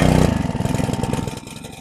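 A small garden tiller engine fires up and settles into a fast, even chugging idle, loud and close at first and then steady, with no voices over it.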